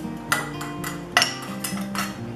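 Dishes, pots and pans clatter at a home kitchen sink during baking cleanup, with ringing metal knocks and clinks, two sharp bangs standing out over steady running background noise.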